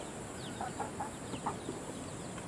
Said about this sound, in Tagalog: Yung mga pula guys, kasi yan eh, Rhode Island mahogany ito.